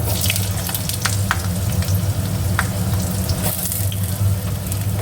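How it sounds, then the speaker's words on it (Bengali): Cut potatoes frying in hot mustard oil with bay leaf and cumin in a kadai hiss with a loud, steady close sizzle, broken by a few sharper spits and crackles. "আলুগুলো একটু ভাজা ভাজা করে নেবো"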